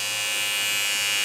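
A Xiaomi Mitu baby hair trimmer running with its trimmer head extended, a steady, close, high-pitched electric buzz that holds level throughout.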